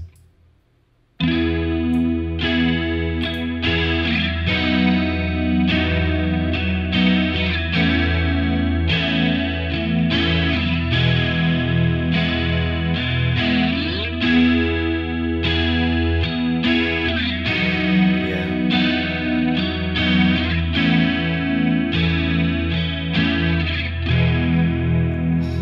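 Electric guitar run through Boss chorus plugin emulations, playing sustained chords and notes with a shimmering, wavering chorus effect, loud and continuous with no talking.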